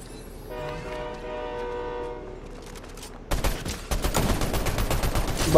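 A train horn blows a sustained, faint chord for a couple of seconds, then loud, close bursts of rattling and banging clatter take over.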